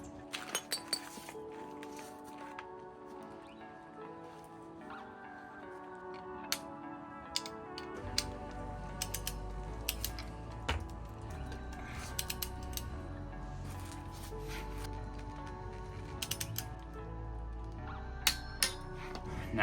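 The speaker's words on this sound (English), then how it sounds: "we're just going to tighten it up by hand" Metal clinks and ratcheting ticks from leaf spring shackle bolts being tightened by hand on a van's rear suspension, a steady run of small close taps over a low background hum.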